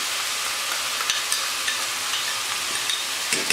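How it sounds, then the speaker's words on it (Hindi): Ginger garlic paste frying with onions in a pan for mutton karahi, a steady soft sizzle with a few light stirring scrapes and taps, close and continuous with no talking. "अब हम इसमें डालेंगे अदरक लहसुन का पेस्ट"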